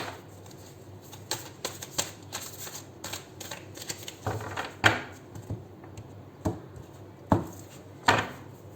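Oracle cards are shuffled in a series of quick riffling bursts and soft taps, close and fairly quiet, irregularly spaced with short pauses between.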